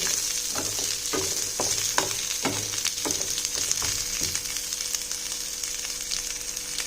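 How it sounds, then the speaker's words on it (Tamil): Onion, tomato and garlic sauté in a pan for a village-style fish curry, giving a steady close sizzle throughout with repeated soft scraping strokes from stirring, and no talking. "நல்லா வதக்கிக்கோங்க."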